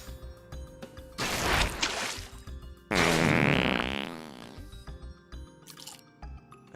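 Fart sound effects from the video game Strange Seed: two loud, close, sputtering blasts, the second longer and wetter, over a quieter game music backdrop with no talk.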